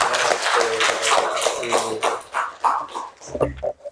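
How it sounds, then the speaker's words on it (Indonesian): Schoolchildren in a classroom clap their hands together in a dense, steady burst of claps, with young voices talking over it before the clapping thins out near the end. "tepuk tangan semuanya anak-anak"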